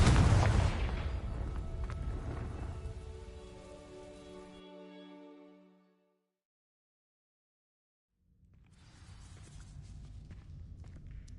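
A Confringo fire spell from Hogwarts Legacy bursts against dry vines, a loud crackling whoosh that fades into a ringing tail, followed by two seconds of silence before quieter game ambience returns.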